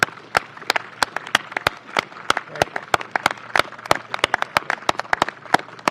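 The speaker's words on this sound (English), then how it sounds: "let's do a huge round of applause for Peter" Sparse, scattered claps from a small crowd at a press conference, sharp individual hand strikes rather than a dense roar, continuing steadily near the listener with a little murmur beneath.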